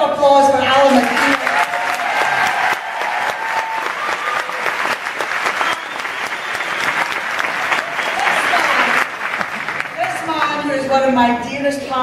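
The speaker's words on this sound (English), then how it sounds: "So I want a big round of applause for Alan McKee." Audience applause at a closing event in Glasgow, loud sustained clapping from a large crowd lasting several seconds, with voices calling out at the start and end.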